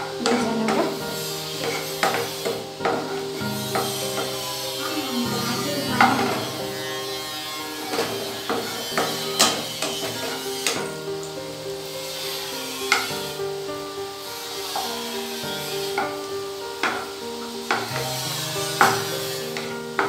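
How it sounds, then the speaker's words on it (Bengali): Cashew nuts fry in a hot pan for semolina halwa, with a steady soft sizzle under repeated scraping and stirring clatters of a spoon against the pan, heard close and without talking. "এখন এর মধ্যে কাজু বাদামগুলো দিয়ে দেব। ভালো করে এটাকে একটু ভেজে নেব, একটু লাল লাল করে ভেজে নেব।"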